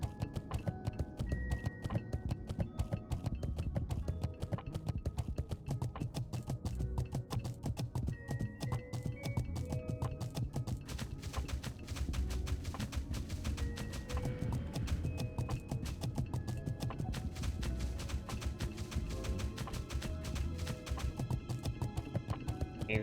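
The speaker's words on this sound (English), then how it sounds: "It's the horse." A horse mount gallops in World of Warcraft Classic with continuous rapid clip-clop hoofbeats in a steady rhythm, layered over game ambience and occasional soft tonal effects.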